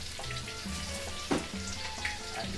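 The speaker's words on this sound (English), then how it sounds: "when you fry onion, garlic and ginger, it's gonna start frying" Onion, ginger and garlic sizzle steadily in hot oil for a Malaysian fish curry, with occasional stirring clinks and scrapes, close and continuous without speech.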